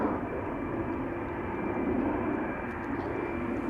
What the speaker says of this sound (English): Next up, Delta A330 to Boston, Massachusetts, flight 243 coming this way